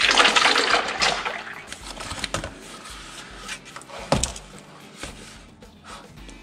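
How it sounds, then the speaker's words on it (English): Transmission fluid drains from a 2008 Saturn Outlook with a shuddering transmission, giving a trickling liquid sound broken by metallic clinks and clatter from a pan or plug, close up with no talking. "We've drained out kind of as much as it will."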